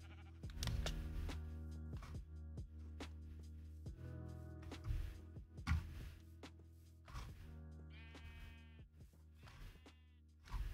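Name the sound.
sheep bleating in a video game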